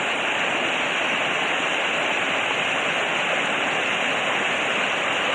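Cascades Waterfall in Virginia roars with a loud, steady, unbroken rush of heavy falling water, close and constant throughout with no voices over it.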